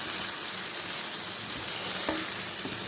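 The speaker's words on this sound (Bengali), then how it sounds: "এবার ভালো করে কষিয়ে নেব" Katla fish curry sautéing in oil with salt and turmeric, a loud, dense, continuous sizzle close by, with a brief scrape of stirring partway through and no talking.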